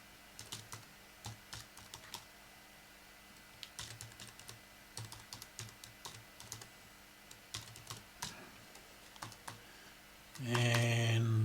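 Computer keyboard typed at a Linux desktop for a password, a run of close, crisp, evenly spaced keystrokes followed by a sudden louder steady noise at the end.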